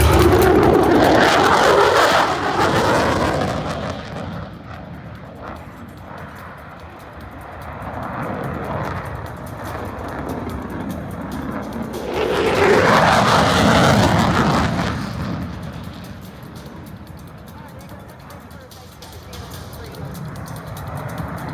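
Military jets sweep past at an air show, chasing a small Russian plane, with a loud broad engine roar swelling twice, near the start and again around the middle, while an announcer talks over it throughout.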